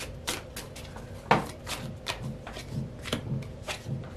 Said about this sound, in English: I just want to get the rest of the cards here.